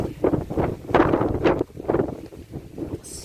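High winds gust through a vegetable garden of tomatoes, fennel, Swiss chard and squash, buffeting the microphone in loud, uneven surges with rustling between gusts and no voices.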